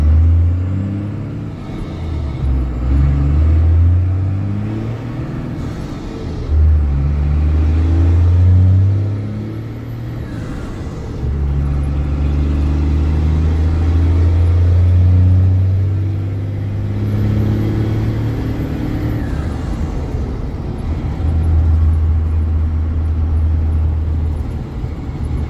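A 1994 Dodge Ram pickup engine pulls through its gears on a country road, a loud, close, deep rumble that rises with each acceleration, dips at the shifts, then climbs again.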